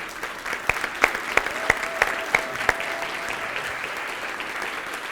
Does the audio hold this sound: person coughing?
no